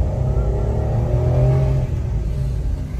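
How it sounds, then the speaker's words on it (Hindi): A car engine strains while climbing the hill road up to Murree, giving a loud, steady labouring hum with a slight rise in pitch and constant road noise. "गाड़ी को लगता है जोर जब गाड़ी जाती है ऊपर"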